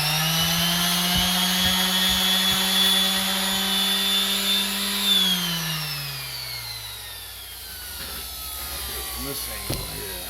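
A power sander or grinder works down a bicycle part during a home repair, a steady loud whine with a clear falling pitch as the tool winds down midway, followed by fainter rough grinding and scraping.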